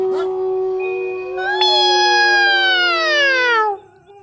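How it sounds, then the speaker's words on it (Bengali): A black cat meows in one long, loud, drawn-out call that rises in pitch midway and then fades, heard close and alone. "একটা কালো বিড়াল বেরিয়ে এসে ওর দিকে তাকিয়ে আবার ডাকলো"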